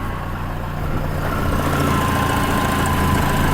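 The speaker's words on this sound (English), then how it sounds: "Let's have a look under the engine and hear it running." Close, steady idle of a cold 1963 Land Rover Series 2a engine heard from underneath, an even low mechanical thrum with faint vibration and no voices.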